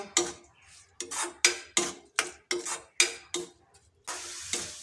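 A spatula stirs an orange-juice filling with half a cup of water in a pan for patishapta pitha, making about ten rhythmic, evenly spaced scraping strokes, each loud and close, with brief quiet gaps between them.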